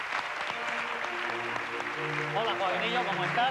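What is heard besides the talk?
audience applause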